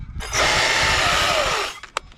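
A T542i battery chainsaw cuts side notches into a tree, a loud, close electric whine that rises sharply, holds steady through the cut for over a second, then cuts out, followed by a couple of short knocks.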